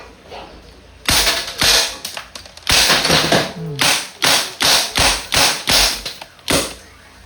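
A Crosman MK45 non-blowback polymer airgun fires repeatedly at a target, a run of about ten sharp, loud snapping shots in quick, fairly even succession after one opening shot, close up with no talking.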